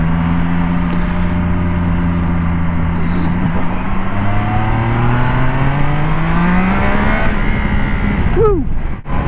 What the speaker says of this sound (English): It's a 660 inline triple. Very, very smooth.